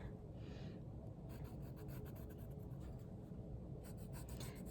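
A pencil drawing a 1.5 inch line on paper while drafting a quilt block, a soft steady scratching rub that continues throughout, close and quiet with no talking.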